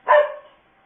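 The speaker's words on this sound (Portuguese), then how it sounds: "Se vocês ouviram um latido, esse foi meu cachorro." A single short, close dog bark, loud and alone, fading quickly into silence.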